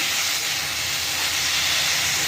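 Pumpkin leaves frying in a pan with some water still in them give off a steady, close, loud hiss that holds evenly throughout with no talking.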